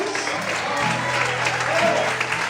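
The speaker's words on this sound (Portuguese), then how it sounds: "aplauda Ele bem forte em nome de Jesus" A church congregation applauding, dense steady clapping throughout, with a voice speaking over it at a low, sustained level.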